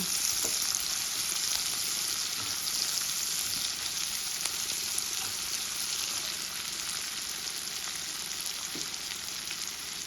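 Onion fries in a pan for methi bhaji with a continuous, dense sizzling hiss held at a steady level throughout, with faint scattered pops.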